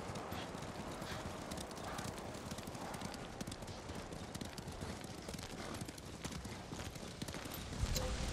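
Horse hooves clip-clopping at a steady gallop in the Ghost of Tsushima video game, a dense continuous rhythm held at constant loudness over a stormy background, with no talk.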